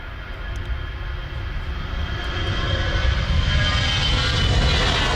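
EasyJet airliner jet engines roar steadily and loudly, swelling slightly as the plane passes nearby.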